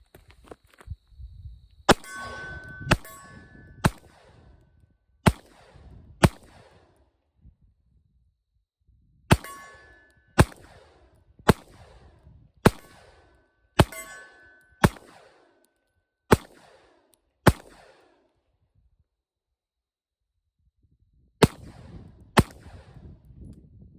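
Pistol shots ring out at a steel target 30 yards away, about fifteen sharp cracks in irregular clusters separated by quiet pauses, with faint rustling in between.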